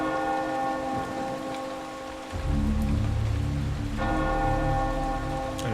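A large bell rung in the video game Eternal Darkness tolls twice, each deep, resonant strike ringing out and lingering over a soft patter of falling rain, with no one talking.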